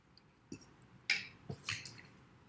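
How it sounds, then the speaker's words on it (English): Hot water is poured into a stiff monoprint plate mixture, giving a few scattered wet drips and soft squishy splashes against quiet background. "So I'm adding my hot water to this mixture."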